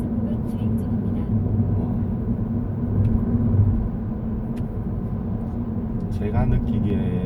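Hyundai Casper EV cruising on a road through a speed-enforcement zone, a steady low tire and road rumble filling the cabin with a slight swell midway, fairly loud and continuous throughout.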